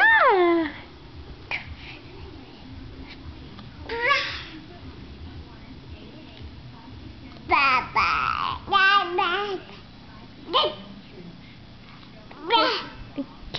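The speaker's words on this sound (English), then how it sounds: "Did you hear the kitty?" Several cat meows at irregular intervals, some drawn out and rising, with a voice and quiet speech between them.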